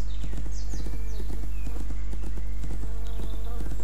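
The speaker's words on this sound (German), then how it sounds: "Ich hab ein Pferd, das reitet durch die Prärie." Hooves clip-clop in a steady, brisk rhythm from a horse in the riding video game My Little Riding Champion, with synthetic whooshing effects and a constant low background hum underneath.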